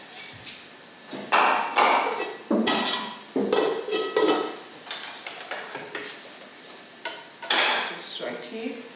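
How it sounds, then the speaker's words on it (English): Pieces of eggplant are dropped into a cooking pot, with a series of clattering knocks, scrapes and clinks of pot and utensil in irregular bursts, close and moderately loud. "I just put this eggplant in this other pot."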